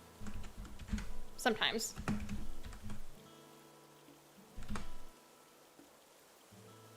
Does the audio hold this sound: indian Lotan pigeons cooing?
no